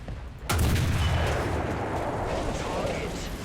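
A single huge blast from the FV4005's 183mm cannon firing a HESH round in War Thunder, a sharp crack followed by a deep, long rumbling roar that fills the rest of the moment.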